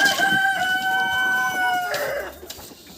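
An Australorp rooster crows loudly and close, a long rising-then-falling call that trails off into rustling.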